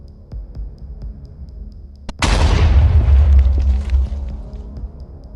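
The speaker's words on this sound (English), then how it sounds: "after the targeted hit on the 9T452 TEL, the launcher's ammunition detonated" Ammunition aboard a 9T452 TEL launcher detonating after a drone strike: a sudden loud, close blast roaring into a long rumbling boom that slowly fades, preceded by faint steady ticking and low noise.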